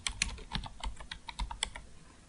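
Rapid typing on a computer keyboard while entering text in Photoshop CS6, about a dozen crisp key clicks in an uneven quick rhythm, close and clear with no voice.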